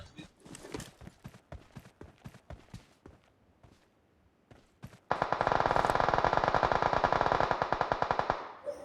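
In the BGMI battle royale game, scattered single gunshots and footstep-like thumps give way to a loud, sustained burst of rapid automatic fire during a heavy firefight, with no talking.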